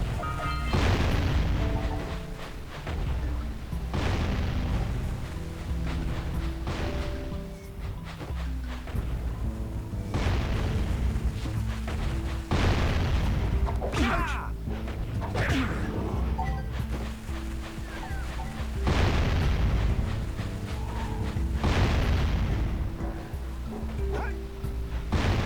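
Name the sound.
bombs exploding in Jak and Daxter video game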